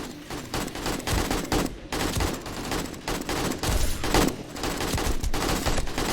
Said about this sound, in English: I need to make sure that as soon as I shoot, I actually kill the zombies